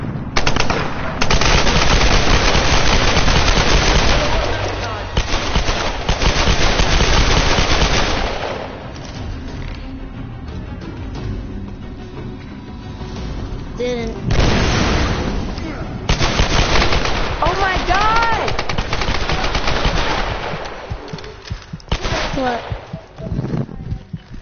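Rapid gunfire in multiplayer Tomb Raider, loud close bursts of automatic shots in long stretches with brief pauses between volleys and game sounds in the gaps.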